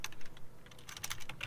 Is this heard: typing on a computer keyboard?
yes